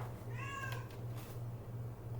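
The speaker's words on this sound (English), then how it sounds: "My cat." Domestic cat giving one clear, drawn-out meow nearby, indoors over a steady low electrical hum, with no talking.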